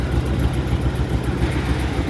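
A 1999 Ford F150 pickup truck engine idles steadily nearby, a low continuous rumble with a faint rhythmic chug and no voices.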